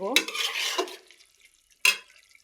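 Pieces of fish go into a vegetable curry simmering in a pan, raising a loud sizzling burst that fades, then a second short sharp sizzle as more fish drops in.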